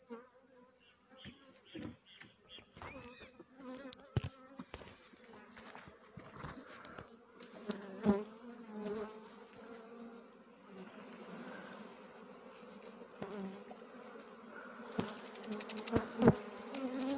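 A dense, close hum of many honeybees buzzing around a hive during bee sample collection, with scattered clicks and knocks over the drone.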